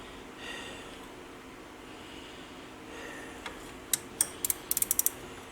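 Socket ratchet clicking while loosening the two 15 mm brake caliper bolts on a Polaris RZR 800, a few quiet scattered clicks and then a quick burst of close, sharp ratcheting near the end over a faint background.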